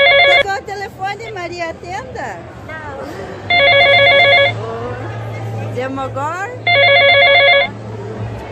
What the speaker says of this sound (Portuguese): Tá tocando o telefone, atenda